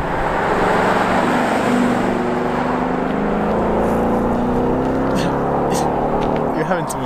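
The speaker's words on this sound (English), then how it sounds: "You gotta hear the engine in the shot." A 2015-17 Ford Mustang GT engine roars steadily and loudly throughout, with road noise and a continuous drone, rising slightly as if accelerating.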